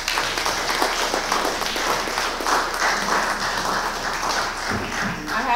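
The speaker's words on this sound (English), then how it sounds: "If you could give them all a round of applause again." A large audience applauds steadily at a political conference panel, a dense, even wash of clapping held at a constant level throughout.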